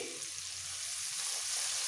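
Mixed vegetables, cauliflower, potato, carrot and beans, frying in a pan for an Indian Railways pantry-car style sabji produce a soft, steady sizzle, faint and continuous with no voices.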